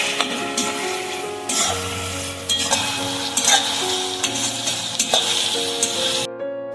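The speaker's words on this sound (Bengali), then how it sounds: "ভালো করে পেঁয়াজগুলোকে নাড়াচাড়া করে ভেজে নেব" Sliced onions with salt are stirred and fried in a pan for mutton curry, a steady sizzle broken by repeated scrapes and clinks of the spoon against the pan, close up with no talk.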